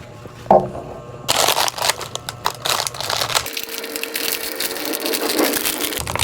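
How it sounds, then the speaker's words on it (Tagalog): Crunchy crushing and crackling bites of an Oreo cookie, a burst of loud crunches early on followed by continued close chewing noise with scattered crackles. "Reo Eating Oreo"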